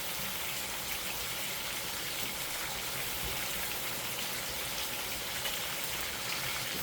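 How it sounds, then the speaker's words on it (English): Running tap water pours steadily over hands at a sink in a home kitchen, a continuous broadband rush with no talking. "I'm going to wash my hands."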